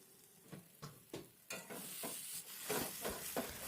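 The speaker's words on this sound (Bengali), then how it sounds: "এখন মটরশুঁটির এই পেস্টটাকে ভালো করে ভেজে নিচ্ছি" Green pea paste fries in a pan for a kachori filling, with a soft sizzle under regular stirring scrapes and knocks that start sparse and quiet, then build into a louder, steadier frying hiss, close by and with no talking.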